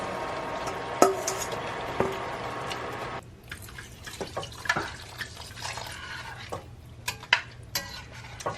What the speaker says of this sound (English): I'm going to take my shrimp that are already cleaned, and I'm going to put them right here into the sauce.